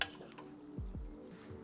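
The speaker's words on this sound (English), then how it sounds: "Move those ingredients around and let everything blend together." Beef and bok choy stir-fried in a pan over high heat, with a steady soft sizzle, scraping strokes of a utensil and a faint clink of the pan, no talking.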